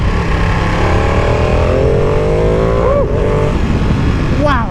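A Ducati Panigale V2 sport motorcycle accelerates on the road, its engine note climbing steadily through the revs with a gear change partway through, loud and close over wind noise.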